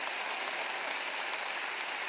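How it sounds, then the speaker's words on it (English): A church congregation claps during a sermon, producing a thick, even roar of many hands that is unbroken and steady for the whole stretch. It sounds somewhat distant, like rain, with no voices standing out. "Clap your hands and say amen."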